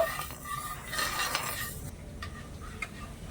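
A spoon stirs sugar, water and cardamom in a pot, making quiet scraping swishes and light metallic clinks close by, with no talking.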